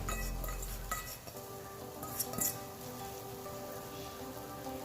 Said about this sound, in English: As you can hear, it's already starting to fry.